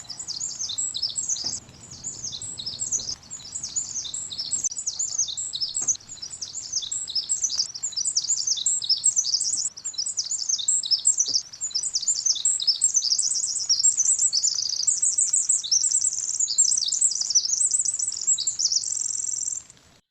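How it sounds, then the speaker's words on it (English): A Pacific wren's song plays back from a recording as long, rapid cascades of high, tinkling trills and chirps that run on almost without pause, loud and clear over faint low background noise. "So that's the Pacific wren bird, and that bird plays a pretty significant role in the piece."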